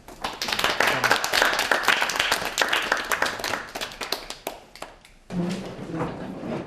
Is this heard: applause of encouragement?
yes